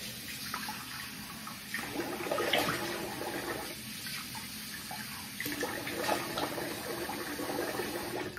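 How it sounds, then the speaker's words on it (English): Running water from a bathroom tap while a face is rinsed after a shave, a continuous close rush with splashy surges as hands scoop and splash. "I'm gonna rinse the face here."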